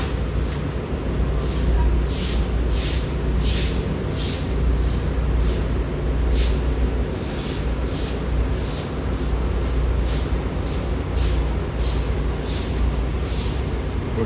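A PATH train running toward 33rd Street from Hoboken, a steady loud rumble of wheels on rail with regular rhythmic clacks at the track joints, heard from inside the car throughout.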